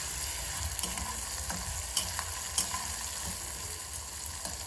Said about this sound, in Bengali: এবার টমেটো আর পেঁয়াজটা ভালো করে একটু ভেজে নিতে হবে, একটু লাল লাল করে।